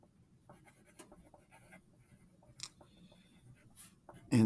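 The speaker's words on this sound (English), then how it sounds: "I'm going to make sure I have my name on my paper." A pen or pencil scratching as a name is written on paper, soft irregular strokes up close in a quiet room, ending with a louder thump.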